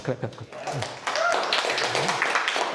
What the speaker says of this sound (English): I think that deserves your clap.